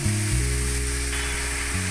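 Green chilli, cumin and coriander paste go into hot oil as tempering, a loud, steady hissing sizzle heard close up with no talking, its tone shifting slightly as the spices settle.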